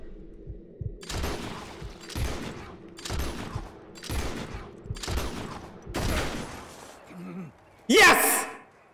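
Gunfire in Red Dead Redemption 2 comes as a series of about seven sharp bursts roughly a second apart, each with a low thump and a bright crack. A voice is heard near the end.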